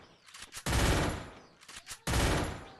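Automatic gunfire in a shooting video game, two loud, dense bursts in quick succession with a short gap between them.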